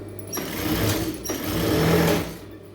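Close by, a sewing machine makes two short whirring bursts of stitching as it attaches canvas to a star-shaped neckline.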